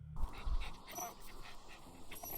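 Rage, a dog in the video game Stolen Rage, pants and whimpers in short, close bursts, with small yips over a quiet background.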